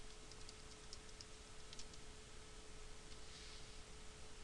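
A password being typed on a computer keyboard: faint, scattered key clicks over a quiet hiss and a steady low electrical hum.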